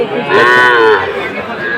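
A Sahiwal cow at a livestock market gives one loud, drawn-out moo close by, swelling and then fading, with faint background murmur around it.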